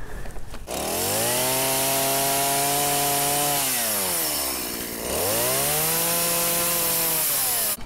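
A chainsaw roars steadily while carving a wood spirit face into a log, its loud engine pitch dipping twice as the blade bites into the wood, then rising again, with no talk.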